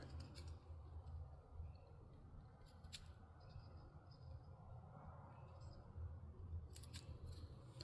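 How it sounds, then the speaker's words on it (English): Small garden snippers cut plant stems in a greenhouse, giving a few faint, sharp snips over a steady low background hum. "I am going to get my little snippers and snip them off."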